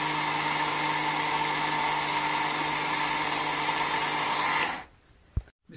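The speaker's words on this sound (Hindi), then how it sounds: "अब इसको जो है पीस लेंगे।" An electric kitchen grinder pulverizing raw rice, a loud steady motor whine with gritty grinding that runs for several seconds, then cuts out and spins down to near silence, followed by a brief click.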